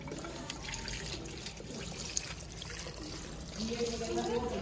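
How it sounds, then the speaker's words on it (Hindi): Tap water runs steadily into a sink as strawberries are rinsed, a continuous splashing stream that grows slightly louder toward the end. "स्ट्रॉबेरी धोना शुरू कर दी है"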